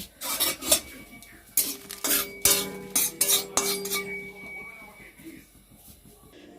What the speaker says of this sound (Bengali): এবার এই জিরেটা শুকনো খোলায় ভেজে নেবো প্রথমে শুকনো লঙ্কাগুলো ভেজে নেবো